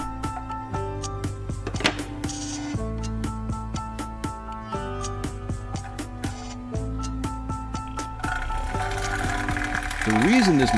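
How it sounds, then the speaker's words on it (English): Homemade rust remover built from an old computer fan, vibrating a tray of yellow sand against long-rusted metal items, a steady buzzing hum broken by rapid rattling clicks, with a rising whine near the end. "When operating, the yellow sand in the tray vibrates strongly, continuously hitting the metal surface."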